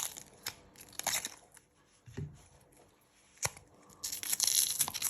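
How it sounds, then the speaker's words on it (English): Papery shallot skins are peeled away by hand in close, crisp tearing and crinkling bursts separated by short quiet gaps. "So you're peeling 2 layers off the shallots, just like that."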